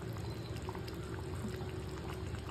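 Chicken and potato curry bubbling in a pot after water is added, a quiet continuous simmer with soft gurgling pops close by.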